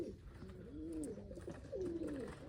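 Pigeons in a homemade loft setup coo in soft, rolling phrases, several overlapping calls close by and fairly quiet, with no voices.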